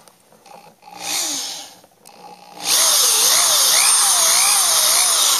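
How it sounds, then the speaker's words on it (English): A power drill bites into metal, a loud continuous whine with a wavering pitch kicking in partway through after quieter handling noises. "so now we're just going to drill these."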